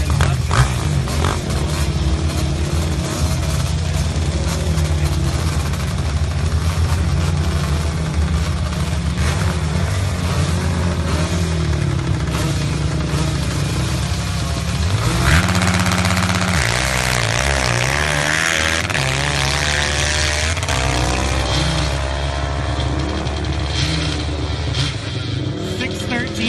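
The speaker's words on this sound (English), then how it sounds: "4-stroke Yamaha here in the left side." A 4-stroke Yamaha drag-racing motorcycle roars loudly down the track at a spring nationals event, its engine note shifting and rising midway over constant crowd and track noise, with a commentator talking over it.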